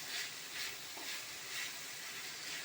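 Ginger garlic paste sautéing in a hot pan for restaurant-style egg fried rice gives off a steady, soft sizzling hiss, swelling and easing in gentle pulses, with no voices.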